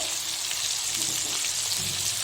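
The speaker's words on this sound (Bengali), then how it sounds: "এরকম করে সব ভেজে তুলে নেবো তারপর গ্রেভিটা দেবো তেলের মধ্যে" Pieces of chicken meat frying in hot oil, giving a steady, dense sizzle that carries on throughout at moderate loudness, close by and without voices.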